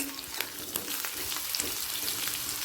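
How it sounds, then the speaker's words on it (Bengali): Chopped potatoes frying in oil until reddish make a steady close sizzle with light stirring clicks and scrapes, no voices. "আলুটা এই মুহূর্তে লাল করে ভাজা হয়ে গেছে"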